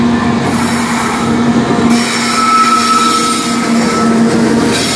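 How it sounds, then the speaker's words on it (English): A westbound CSX empty coal train in Charlottesville, Virginia, with an SD70MAC locomotive among its powered engines, rolls past close by in a steady loud rumble with sustained wheel squeal. "Got a CSX westbound. They get an empty coal train, and they got all engines on power."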